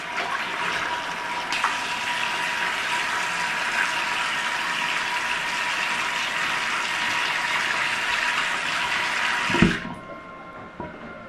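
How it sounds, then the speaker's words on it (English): Tap water runs steadily for several seconds while a fresh tattoo is rinsed, a loud close hiss that cuts off abruptly near the end, followed by a brief clunk and quiet. "Get some more water on there."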